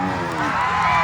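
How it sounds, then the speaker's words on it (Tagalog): South Cotabato fans shout and cheer for lady rider Zaira Paco at a race, a brief burst of crowd noise with mixed voices and a steady tonal drone underneath. "Sigawan dito sa mga South Cotabato para kay Zaira Paco"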